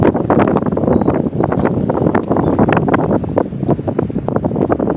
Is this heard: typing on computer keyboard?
no